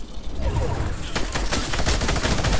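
Rapid bursts of Fortnite gunfire crackle loudly and continuously, overlapping shots forming a dense barrage.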